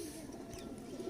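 A female Teddy pigeon coos softly, a faint, low murmuring call that continues through the short moment with no voices.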